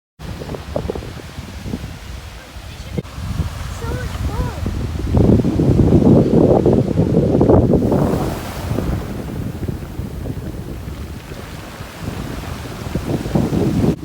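Sea waves wash onto a beach under gusting wind that buffets the microphone, a loud, continuous roar swelling in the middle and easing again, with no clear voices.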